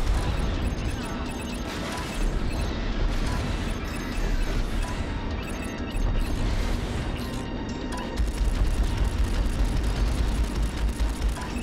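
Missile explosions and crashing blasts from the space combat game Strike Suit Zero, a dense continuous barrage of booms and impacts at steady loudness throughout, with heavier bursts after midway.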